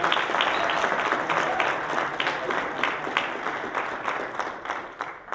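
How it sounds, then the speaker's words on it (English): A lecture audience claps for an incoming speaker, a dense round of applause that holds steady and then gradually thins out toward the end, with no talking over it. "Let's give him a round of applause."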